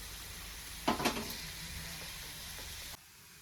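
Sweet potato slices frying in a little oil, a soft, quiet sizzle with a brief louder crackle and clatter near the start. The sizzle fades then stops abruptly toward the end.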